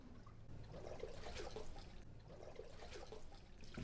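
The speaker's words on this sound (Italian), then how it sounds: "avete sentito il rumore dei remi che muovono l'acqua" Oars of a rowing boat dip and push through water, giving soft, faint splashes and swirls that swell in two gentle, rhythmic strokes against a quiet background.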